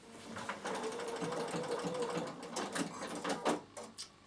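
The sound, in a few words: Bernina sewing machine straight-stitching around a fabric bag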